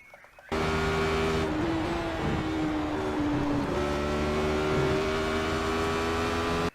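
Radical SR8 race car engine on track at Donington, a high-pitched steady engine drone that kicks in sharply and holds under throttle, slightly shifting pitch through the corner, loud and continuous.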